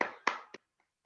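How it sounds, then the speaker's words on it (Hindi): Children in a classroom clap for their friends: three quick, crisp hand claps close by, followed by a couple of very faint taps. "अपने फ्रेंड्स के लिए तालियां बजाने में अच्छा लगता है ना"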